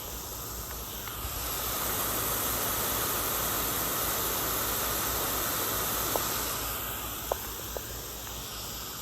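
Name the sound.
K-Rain Mini Pro sprinkler rotor spraying water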